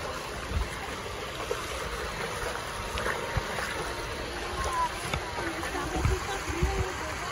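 A river in Costa Rica flows with a steady, broad watery rush, with small splashes and gurgles rising now and then over the continuous flow.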